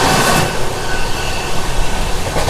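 A passenger train running from Triveni Centre toward Golconda rumbles past close by, a steady loud wash of wheel and coach noise throughout.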